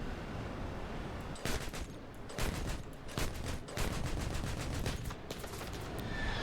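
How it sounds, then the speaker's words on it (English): Bursts of 30 mm cannon fire from a jet in the War Thunder video game hammer out in rapid repeated volleys over a steady engine drone, loud and close, with no speech. "See, I missed every single shot that I had."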